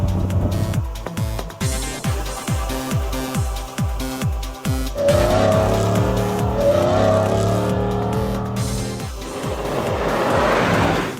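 Rally jeeps race in a three-day cold desert rally at high altitude near Skardu, engines revving in repeated rising bursts up close, followed by a longer sustained roar with tire noise.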